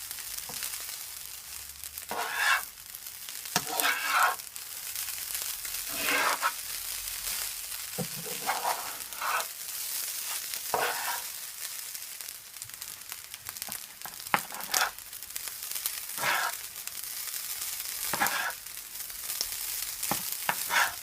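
A large batch of rice for shrimp fried rice stir-fried in a pan, with continuous sizzling and frequent scraping, tossing strokes of the spatula throughout, no talking.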